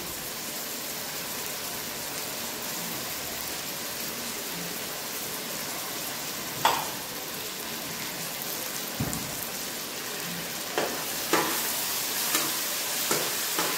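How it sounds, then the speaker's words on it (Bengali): Ginger, garlic and chili paste sautés with ground cumin in a pan, a continuous hissing sizzle broken by occasional scrapes and taps of stirring. "দিয়ে ভালো করে একটু কষিয়ে নেব"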